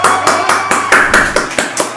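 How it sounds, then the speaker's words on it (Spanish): A burst of applause for a guest introduced on a podcast, heard as about nine distinct, loud, close claps in a quick regular rhythm, like a single pair of hands or a small group. "¡Un aplauso!"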